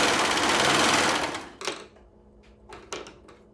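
A sewing machine running a zigzag stitch along fabric for a small plush lizard toy whirs steadily up close for about a second and a half, then stops, leaving a few light clicks and handling noises.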